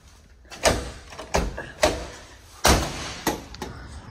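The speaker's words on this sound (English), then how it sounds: "I'm gonna get this door open." A door is forced open in an unpowered building being stripped for demolition in El Reno, producing about six loud, separate bangs and thuds with brief quiet gaps between them.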